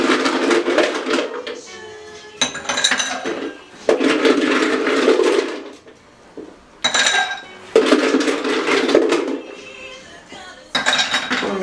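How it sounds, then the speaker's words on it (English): Ice cubes clatter and clink into a cocktail mixing glass in several loud bursts with brief pauses between, a gin drink being built for stirring. "We're going to add our ice now at this point."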